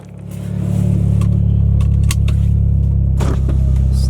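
Mitsubishi Evo X fitted with a new turbo and single-exit exhaust, its engine idling loud and close with a steady low rumble after a quick rise in the first second, and a faint blip midway.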